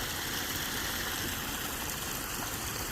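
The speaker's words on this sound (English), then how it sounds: "Look at that waterfall." Garden pond waterfall at a fish rescue, a steady broadband rush of falling water, continuous and even, with no voices.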